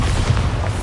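A Bombarda explosion spell in a video game lands as a loud, close, low boom, a single dense rumbling blast that fills the brief moment with no pause.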